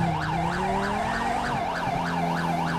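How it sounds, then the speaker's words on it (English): A police car siren in GTA 5 with the LSPDFR mod, sounding from an unmarked Corvette, wails in a steady rapid rising-and-falling cycle, loud and close, with no speech over it. "I'm gonna turn off the siren"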